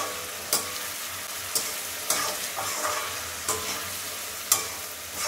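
Tomatoes and beans sauté in a pan for rava kichadi, with a steady sizzle broken by a few distinct spatula scrapes and taps at regular intervals, close and clear with no talking.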